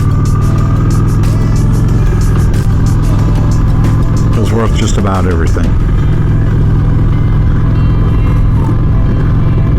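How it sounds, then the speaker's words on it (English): A Honda Shadow 750 ACE motorcycle riding at speed, its engine a loud, constant low drone mixed with wind rush, with a brief rising whine midway and someone talking over it. "Instead of taking the car, taking her on the motorcycle."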